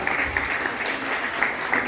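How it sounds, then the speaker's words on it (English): A brief burst of audience applause at a felicitation ceremony, dense, steady clapping from many hands lasting a couple of seconds. "a round of applause."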